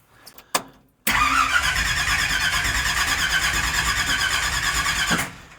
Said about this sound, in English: let's go for an ultra cold start